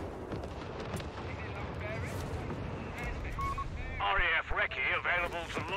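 Airstrike explosions in Company of Heroes 3 during a 4v4 match, with low rumbling booms and heavy blasts rolling beneath continuous game sound and a player's voice talking over it, growing louder toward the end.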